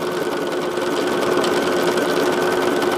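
A sewing machine runs steadily, stitching a quilt block seam, with a continuous close hum and rapid needle chatter throughout.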